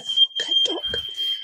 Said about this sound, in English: The fire alarm's gone off.